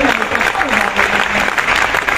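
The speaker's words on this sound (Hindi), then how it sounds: "जोर से एक बार बजा दिए तालियां" Loud, sustained applause from an audience at a yoga-themed gathering, continuous rapid clapping with a faint voice briefly heard beneath it.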